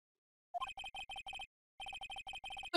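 A telephone rings in the Ace Attorney: Trials and Tribulations video game, two bursts of rapid electronic trills separated by a short pause, clear and alone.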